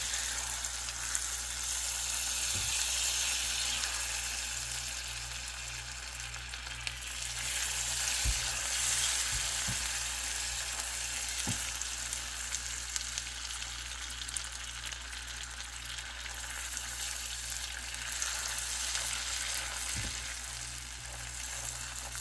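Two tablespoons of butter sizzle in a pan of melted, colored sugar caramel, a steady close hiss with a few small clicks and taps scattered through, no talking.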